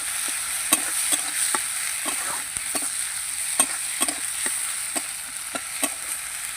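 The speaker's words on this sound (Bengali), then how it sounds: "টমেটোগুলো দিয়ে আমি একটু ভাজবো" Tomatoes sizzle in a pan with frying onions, with repeated clicks of a spoon stirring at a steady pace under a constant hiss, close and fairly loud, no talking.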